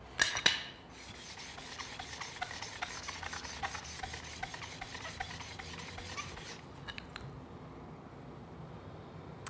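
A file works the edge of a woodworking card scraper during sharpening, making a close, steady rasping rub in rapid repeated strokes that stops abruptly near the end, with a sharp knock at the start.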